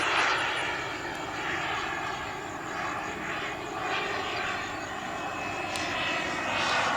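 A Flyfly Hobbies Viper 2.2 RC turbine jet roars past overhead with a loud, steady turbine whine and rush that swells and fades slightly, heard alone without talk.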